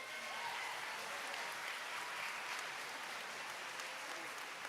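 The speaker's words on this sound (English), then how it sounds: "Let's give our Powersports students another round of applause." Continuous applause from a large audience at a student recognition ceremony, even and sustained for several seconds with no talk over it.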